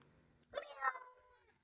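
A single short meow sounds close by, rising and falling briefly against a quiet background.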